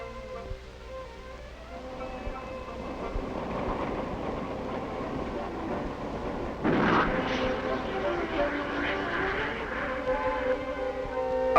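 Test firing of a wire-guided anti-tank missile such as the SS-10, SS-11 or MTAC at the Redstone Arsenal range in 1962: a steady rumbling roar swells into a sudden louder whooshing blast midway, under narration.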